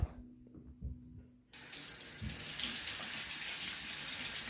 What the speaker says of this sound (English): for this part, you can just rinse it under water.